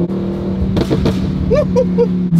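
A Lamborghini cruises along a scenic mountain road near Monterey, its engine a steady, close drone from inside the cabin, broken by a few brief higher-pitched chirps near the end.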